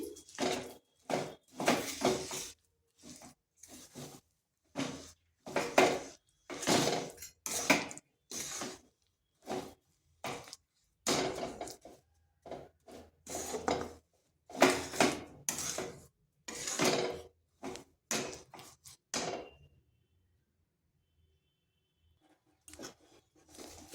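Jaggery melts without water in a pan over low-to-medium heat, stirred with a utensil in a long run of rhythmic scraping and clinking strokes, close and distinct, ending in near silence with a few faint taps.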